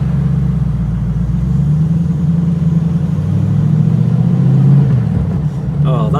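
A TVR Chimaera on the road gives a loud, deep engine rumble that rises and falls as it revs while driving, heard from inside the car, with a voice speaking briefly near the end.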